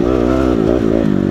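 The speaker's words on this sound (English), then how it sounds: "Riding my 2019 Honda CRF250R." A 2019 Honda CRF250R dirt bike engine revs loud and close, a buzzing, harmonic-rich whine that rises and dips in pitch over a short burst.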